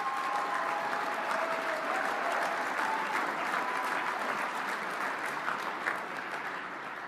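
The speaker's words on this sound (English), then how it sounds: "let's give the 2024 College Football Hall of Fame class a big round of applause" Sustained audience applause at the 2024 College Football Hall of Fame ceremony, a dense, steady wash of clapping from a large crowd filling the hall at an even level throughout.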